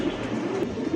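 A Lahori pigeon gives a low, close, continuous coo in one brief burst.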